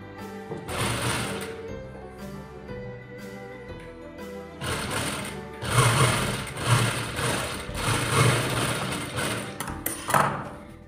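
Sewing machine stitching a seam on a churidar salwar, running in several loud buzzing bursts separated by short pauses, near and alone.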